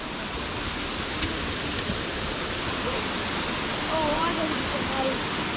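Grotto Falls, a waterfall in the Great Smoky Mountains, pours in a steady, dense broadband rush that stays constant and close throughout, with no pauses or breaks in the flow.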